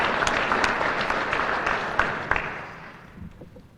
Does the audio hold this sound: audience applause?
yes